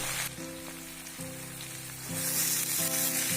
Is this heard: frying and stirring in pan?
yes